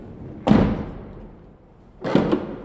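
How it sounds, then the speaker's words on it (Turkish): A Peugeot 307 rear car door is shut twice, each closing a solid, close thud, with a quiet pause of about a second and a half between the two. "Birlikte kapıyı kapatalım ve ilk deneyi yapalım."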